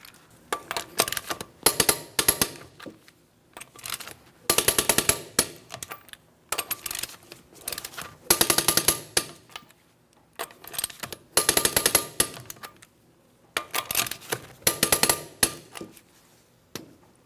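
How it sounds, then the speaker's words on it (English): A torque wrench clicks on the lug nuts of a 2004–2008 Pontiac Grand Prix wheel, tightened to 100 foot-pounds in a crisscross pattern, giving repeated bursts of sharp metallic clicks and ratcheting separated by brief pauses. "I'm going to be torquing each one of my lug nuts to that 100 foot-pounds in a crisscross manner."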